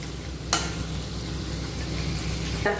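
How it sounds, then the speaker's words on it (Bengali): Taal bora, palm fruit fritters, sizzle steadily in hot oil. Two sharp scrapes of a spatula are heard as the fritters are turned, close and clear. "খুন্তি দিয়ে একটু উলট পালট করে দিচ্ছি বড়াগুলো"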